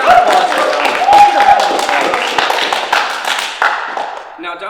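Round of applause from a talk show audience for a guest, dense clapping filling the room with a voice briefly heard over it.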